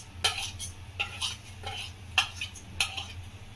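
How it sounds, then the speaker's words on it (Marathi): Mustard seeds and cumin crackling in hot oil in a kadai while frying vada pav seasoning: sharp, irregular pops and spits stand out in several distinct bursts over a quiet, steady background hiss. "आणि राई आणि जिऱ्याला जरा तडतडू द्या छानपैकी"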